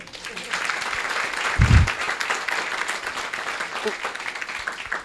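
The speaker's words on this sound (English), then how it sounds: "Please, a huge round of applause for Sebastian." Audience applause at a housing event breaks out and holds steady for several seconds, a dense patter of many hands clapping at moderate distance, with a brief low thump partway through.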